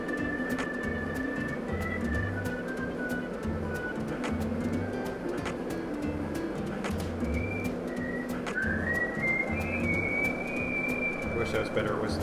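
A person whistles a wandering tune, thin and unsteady, over continuous video game background music and ambience from Deadly Premonition 2.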